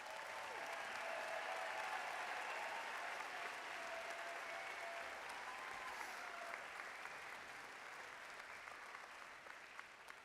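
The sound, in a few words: audience applause for graduates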